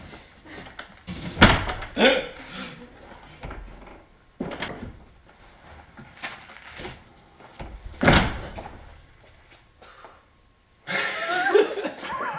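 Several thumps and knocks of a door handled nearby, scattered among bursts of talking and some laughter.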